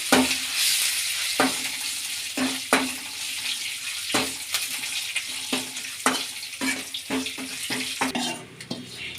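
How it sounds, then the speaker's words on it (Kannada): Curry leaves, cumin and green chillies fry in oil for jeera tambuli, giving a continuous bright sizzle broken by regular, sharp spatula knocks and scrapes against the pan. "ಕರ್ಬೇವಿನ ಸೊಪ್ಪು ಜಾರಿಗೆ ಮೆಣಸಿನ್ಕಾಯಿ ಈಗ ಫ್ರೈ ಮಾಡ್ಕೊಳ್ಳೋಣ ಎಣ್ಣೆಗೆ"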